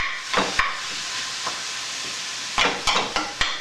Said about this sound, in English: We're going to fry our hamburger meat up first.